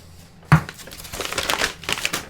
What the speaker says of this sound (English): The paper was so loud.